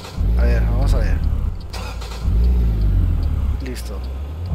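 A car engine in American Truck Simulator turns over and restarts, with two loud rumbling cranking bursts, close and heavy, as someone talks over it.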